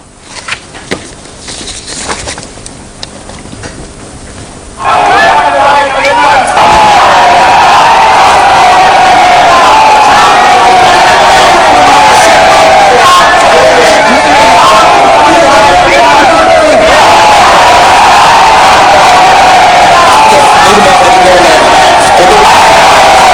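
A vast crowd of over 100,000 at a mass political rally roars and cheers loudly and continuously after a quieter opening few seconds, a dense wall of voices.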